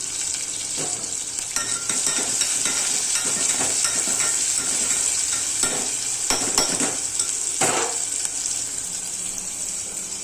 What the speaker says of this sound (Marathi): आता हे ना कांदा ब्राऊन कलर होईपर्यंत करून द्यायचा